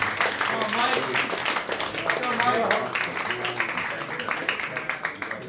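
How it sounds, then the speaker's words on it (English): A comedy club audience keeps clapping for comedian Mike Morrison, sustained applause with scattered cheers and voices mixed in, fairly loud and continuous. "let's keep the clap going for Mike Morrison"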